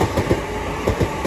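A Southeastern passenger train on the main line at New Cross station rumbles past loud and close, its wheels clicking in a rhythmic clickety-clack over the rails.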